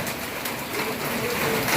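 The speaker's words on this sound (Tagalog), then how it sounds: "walang tigil yung ulan mula kanina pang umaga" Steady rain falls continuously, a dense even hiss that lasts throughout without pause.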